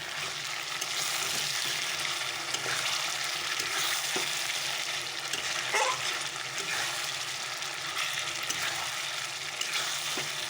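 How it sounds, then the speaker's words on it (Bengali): Chicken browning in a pan with potatoes being added, a steady broadband sizzle of frying with occasional stirring scrapes, continuous and fairly close throughout. "আর চিকেনটা কষিয়ে নিচ্ছি এখন আমি আলুটা দিয়ে দেবো"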